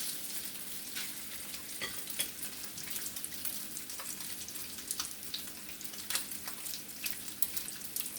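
Bacon fries in a pan at home, giving a quiet, steady crackling sizzle with frequent small pops and spits throughout.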